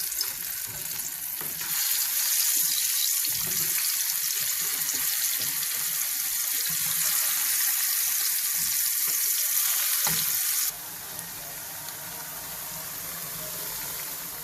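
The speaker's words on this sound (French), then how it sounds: "je vais attendre que mon huile puisse bien chauffer pour frire mes tubercules" Cassava pieces frying in hot oil, a steady loud sizzle and crackle that holds throughout, easing slightly in the final few seconds, with no voices.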